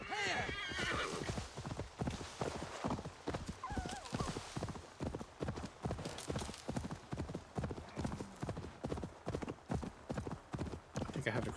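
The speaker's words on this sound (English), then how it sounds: "I like how my horse is always ready for me." Rapid, steady clip-clop of horse hooves in the Ni No Kuni video game, with a whinny rising partway through, under someone talking over the game.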